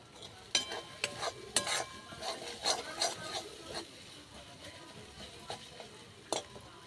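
Spice paste for a pangas and tengra fish oil-chilli curry, fried until the oil separates, is stirred with a utensil. Sharp scraping strokes come at an irregular rhythm over a soft sizzle, close and moderately loud, with no voices.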